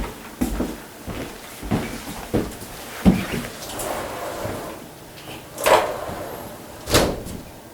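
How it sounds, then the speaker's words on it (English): A door is handled and locked, with a series of close wooden knocks, thumps and latch clicks spaced irregularly over a quiet room background. "All right, I'll lock the door."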